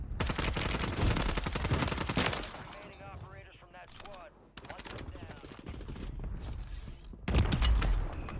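Rapid bursts of gunfire ring out in a shooter video game, dense automatic volleys at the start and end, with voices chatting over quieter stretches in between.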